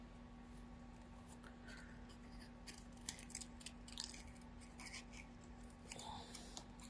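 Scissors snip a paper whale cutout for a 12x12 scrapbook page, giving quiet, close, irregular clicks and crisp little cuts over a faint steady hum.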